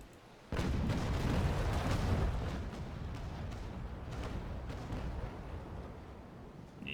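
Ship cannon barrage in the naval game Naval Action, a sudden booming volley from a Renommee against a frigate, the blast erupting at once then rumbling and crackling on as a long, rolling wall of fire.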